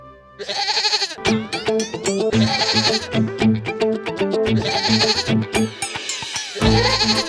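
A goat bleats in loud, wavering bursts, several long cries separated by brief pauses, close and clear with no voices over it.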